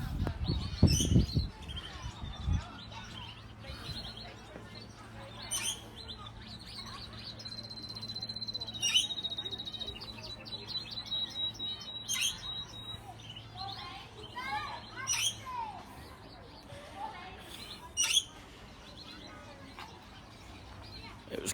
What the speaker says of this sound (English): It was canaries there, that was the answer.